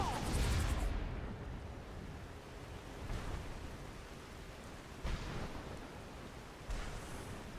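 A Storm Call shout in Skyrim summons a thunderstorm: steady rain-like roar throughout, a loud burst at the start and a few sharp thunder cracks later on, with no voices.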